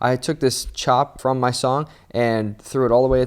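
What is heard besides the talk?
No everyday noise stands out behind the speech.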